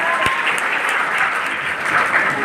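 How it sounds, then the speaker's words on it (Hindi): Loud, dense applause from a seminar audience, continuous and close, with a few sharp individual claps standing out against the steady roar of hands. "एक बार जोरदार तालियां अपने लिए, बैठिए।"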